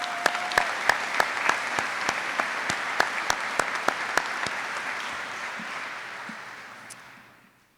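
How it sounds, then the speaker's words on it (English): Audience applause for graduates' family members and friends at a military class graduation ceremony, a sustained crowd of clapping with a few sharp individual claps standing out, fading gradually toward the end. "I would like to offer a round of applause for their family members and friends that have supported them here"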